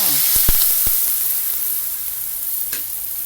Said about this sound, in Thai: ตั้งกระทะนะคะ ใส่น้ำมันพอประมาณ นะคะ รอให้ร้อนเพราะไข่เจียวนี่ต้องร้อนนะคะ มันจะฟูดี แล้วเราก็ใส่ลงไปเลยค่ะ